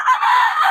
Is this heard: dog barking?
no